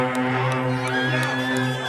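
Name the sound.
car horns honking at a drive-in event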